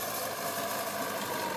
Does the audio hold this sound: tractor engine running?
yes